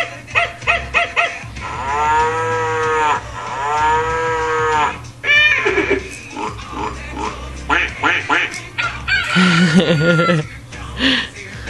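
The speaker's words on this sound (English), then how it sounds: "The cow moves in the barn." Two long, loud cow moos follow each other, with a voice and other playful animal-like calls around them.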